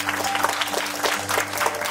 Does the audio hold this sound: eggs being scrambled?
no